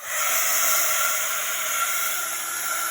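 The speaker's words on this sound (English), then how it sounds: "I'm going to have to get my heat gun because I need to dry that" Steady, loud rush of hot air from a heat gun, a continuous broadband hiss with no pauses.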